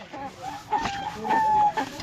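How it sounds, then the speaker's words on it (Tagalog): Chickens cluck in short bursts close by, with a brief crowing-like call in the middle, amid faint background noise. "So bali ito po yung 2 manok."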